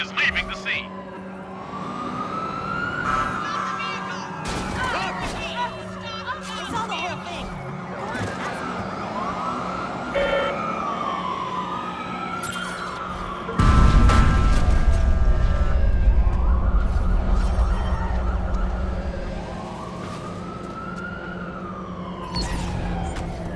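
Police car sirens wail in repeated rising and falling sweeps during a pursuit in the video game Watch Dogs 2, close and loud, with a heavy engine rumble surging midway and voices intermittently over the chase.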